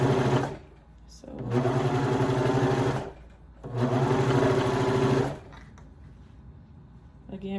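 A sewing machine stitches around the armhole of a toddler's halter top in two sustained, even bursts of rapid whirring, with quiet pauses between them.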